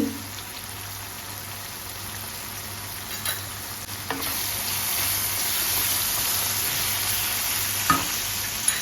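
Turmeric being stirred into sizzling oil in a pan while cooking chole, a steady frying hiss with a few soft stirring scrapes, close and continuous with no talking.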